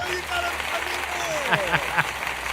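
Canned applause from a podcast clap button plays under ongoing talk by the hosts, with a few sharper claps standing out near the end.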